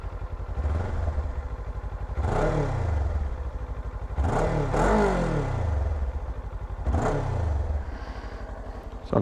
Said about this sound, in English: I'll give it a few revs here.